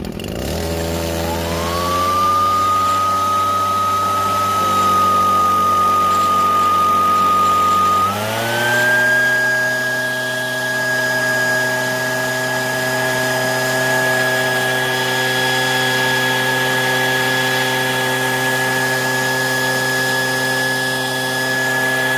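A small engine-driven blower runs loud and close with a steady drone, rising in pitch as it revs up partway through, blowing air over mulched grass seed.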